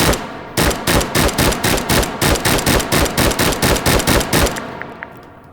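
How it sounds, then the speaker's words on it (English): Rapid bursts of automatic gunfire from a three-round-burst weapon in the VR shooting game Hot Dogs, Horseshoes and Hand Grenades, loud and close, a steady run of sharp shots for about four seconds before trailing off into faint clicks. "And we got the 3-round burst, which is basically almost just 1 bullet going out, but it's actually 3."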